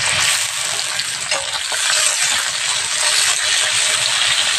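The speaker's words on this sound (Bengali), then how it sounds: "তেলটা গরম হয়ে গেছে, এবার আমি ঢেঁড়সটা দিয়ে দেবো" Okra sizzles and crackles after going into hot white oil in a pan, a loud, steady frying hiss with faint clinking, carrying on without any talk.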